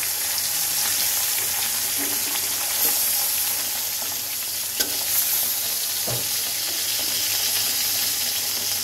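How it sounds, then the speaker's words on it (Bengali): Koi fish fry in hot oil in an iron wok, a loud, dense, steady sizzle with a few faint spatula knocks, heard up close. "তো চলো মাছটাকে ভেজে তুলে নেই।"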